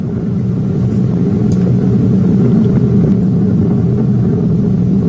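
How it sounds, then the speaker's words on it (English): Ariane 5 rocket launch carrying the James Webb Space Telescope: a deep, steady, continuous rumble felt from a distance, loud and unbroken with no voices. "The rumble of the powerful Ariane 5 now being felt here in the control center"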